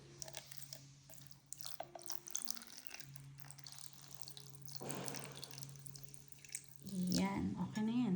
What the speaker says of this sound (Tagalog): Tapos maglagay din tayo ng konting cold water.